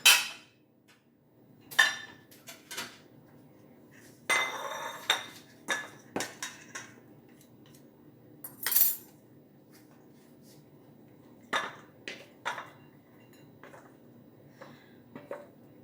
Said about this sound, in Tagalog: Lagay natin sa isang plato.